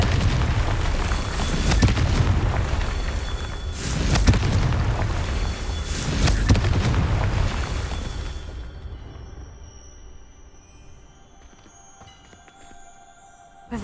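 Three heavy booming blasts from the Confringo fire spell in Hogwarts Legacy, each landing roughly two and a half seconds apart with a rumbling tail, then fading into quieter game ambience and a final soft thump.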